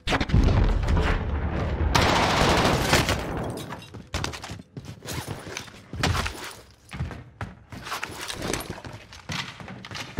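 Rapid gunfire bursts from a hard-to-control gun in Call of Duty Warzone, loud and dense at first, then broken into shorter volleys amid game effects.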